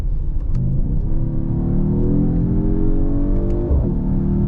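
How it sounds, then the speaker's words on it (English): A Mercedes GT43 AMG engine revs hard and climbs in pitch under acceleration, with a brief drop and recovery near the end like a gear shift, loud and close. "I can't get over that shift sound."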